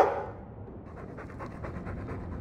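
Mabari war dog from Dragon Age 2 panting in quick rhythmic breaths, fairly close and steady after a brief louder sound at the start, with no talking.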